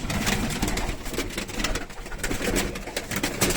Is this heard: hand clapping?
no